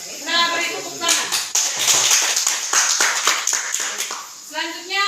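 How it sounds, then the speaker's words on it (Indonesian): A small audience at a school mentoring session breaks into brief applause, several seconds of uneven clapping that starts just after a voice speaks and fades as talking resumes. "beri tepuk tangan"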